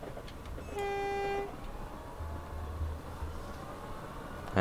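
A simulated train on the old Portsmouth Direct Line in Train Simulator sounds one clear sustained horn blast of about a second over a steady low rumble of the running train, with no talking.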